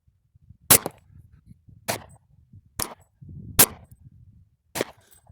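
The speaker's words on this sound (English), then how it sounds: "We'll shoot the upper left." Five gunshots from a custom Glock G23 pistol at a shooting range crack out one by one, loud and close, with gaps of about a second between them and quiet in between.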